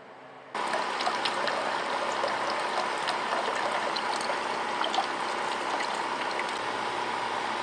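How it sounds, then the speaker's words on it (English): Running water starts abruptly in a DIY ice-chest air cooler, then flows continuously, a steady close splashing stream with a faint pump-like hum beneath it. "don't want to hear the water running in there"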